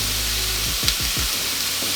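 Vegetables fry in a pan with a steady close sizzle, and a few stirring scrapes break through briefly near the middle.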